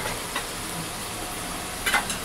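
A pan of garlic, tomato sauce, chili sauce and a little dissolved cornflour crackles and hisses close by, with a short clattering burst near the end.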